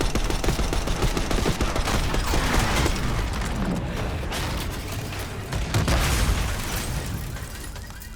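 Gunfire in Call of Duty Black Ops 6 during a street firefight, loud dense bursts of automatic fire and rattling mechanical clatter with booming impacts, continuous and close.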